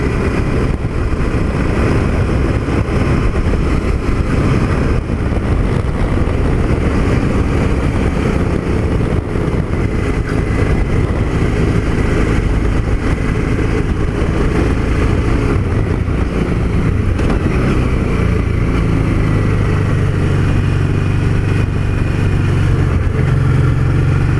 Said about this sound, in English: Alright, so here we go up the corkscrew. This will be a test for me and the bike